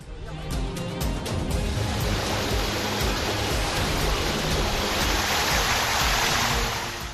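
Heavy monsoon rain pours down in Howrah, West Bengal, a dense, steady roar of downpour that stays loud and constant the whole time, with no voices heard.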